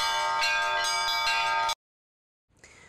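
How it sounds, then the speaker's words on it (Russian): Church bells ring from a mobile belfry during an Easter procession through Gomel's streets, loud and clanging with repeated strikes that cut off abruptly into silence, then resume faintly. "сегодня весь день слышен звон колоколов"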